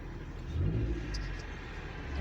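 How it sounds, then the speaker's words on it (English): A Daihatsu Terios with a side-exit exhaust pipe revs with a low, faint rumble that rises and falls. A few light pops come from the exhaust, heard at a moderate distance. "Now the side pipe's on here, it pops and makes all sort of good bang bang noises."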